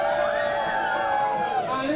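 A crowd cheers and whoops loudly for the yellow robot BB Mareep at a robot combat event, a brief sustained roar of voices.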